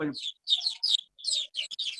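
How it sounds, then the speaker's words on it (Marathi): Sparrows chirp in quick bursts of bright, high tweets with short gaps between them, heard through an open microphone during an online economics lecture, preceded by a brief low thump. "खूप चिमण्यांचा आवाज येतोय."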